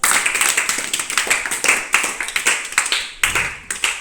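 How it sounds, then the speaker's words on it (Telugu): Children clap together in a classroom in a quick burst of many overlapping hand claps, loud and close, continuing for several seconds with no talk over it. "Very good. క్లాప్స్ మా."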